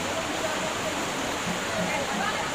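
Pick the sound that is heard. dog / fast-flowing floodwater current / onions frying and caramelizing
fast-flowing floodwater current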